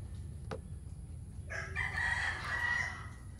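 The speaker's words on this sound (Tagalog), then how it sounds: "Oh my God, ang ingay ng manok!" A rooster crows once on a farm during heavy rain, the call quite faint and distant over a steady low background rumble.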